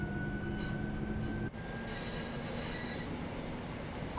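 Train in the Train Sim World 3 game on the Birmingham Cross City line runs steadily, its motor hum and wheel squeal continuous and close, with a brief dip midway and no talk over it.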